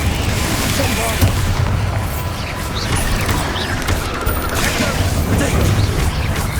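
Bombarda explosion spell in Hogwarts Legacy combat, a loud, dense booming blast filling the whole stretch amid continuous battle noise.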